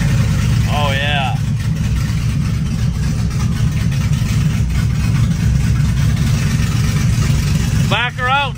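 A cammed Chevrolet Silverado V8 truck idles steadily, giving a loud, close, low rumble throughout, and a person briefly speaks over it near the start and again near the end.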